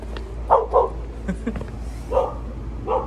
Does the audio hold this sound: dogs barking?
yes